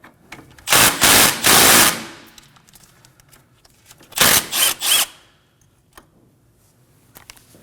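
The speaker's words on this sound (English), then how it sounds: "using a 12mm socket, we're gonna go ahead and remove this bolt that holds the line onto the strut" A 12mm socket tool loosens the bolt holding the front brake flex line to the strut on a 2011-2016 Kia Optima, giving two loud bursts of rapid mechanical rattling separated by a quiet pause.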